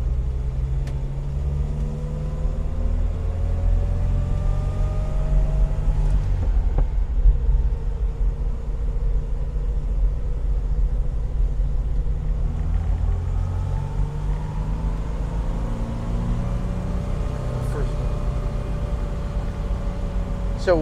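A 1991 Moskvitch IZH 412 sedan's engine pulls steadily at low revs while driving, a continuous low rumble with shifting tones as it accelerates and turns, close and constant throughout.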